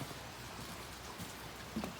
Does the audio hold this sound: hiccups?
no